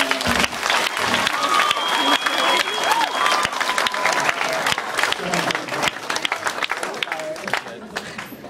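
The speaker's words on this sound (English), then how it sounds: "You got to clap for these people." An audience at a seniors' hypnosis show claps steadily and fairly loudly for about eight seconds, with a crowd murmur and scattered voices running underneath.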